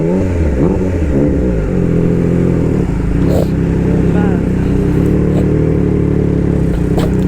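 A Triumph Trident 660 motorcycle engine revs and climbs toward high RPM, a loud, close, rising mechanical roar with a brief dip midway, as someone talks over it.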